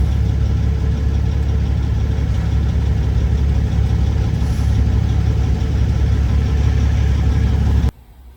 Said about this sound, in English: And I just heard that truck fire up.